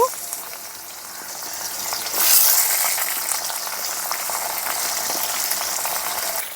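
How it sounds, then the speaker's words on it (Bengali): Long strips of bitter gourd hit hot oil and fry with a steady, hissing sizzle that swells after a moment and keeps going on its own. "এখন তেলের মধ্যে দিয়ে দিচ্ছি করলা"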